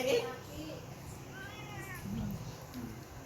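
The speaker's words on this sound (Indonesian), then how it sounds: "Di bawahnya ada induk kucing." A mother cat gives a brief, close meow while a person talks over it.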